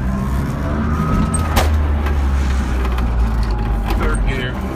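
A small car drives on after shifting into second gear, its engine hum and road noise steady and close, with a person talking over it.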